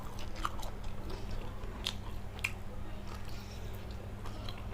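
Someone eats blanched shrimp larb, with soft, close chewing and a few crisp bites over a low background hum.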